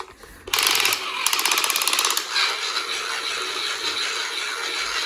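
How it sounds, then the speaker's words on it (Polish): Power tool driving screws into a toy furniture set, a loud rapid ratcheting whir starting abruptly, holding about two seconds, then dropping to a steadier lower buzz that runs on to the end. "wiertarką się wkręciło"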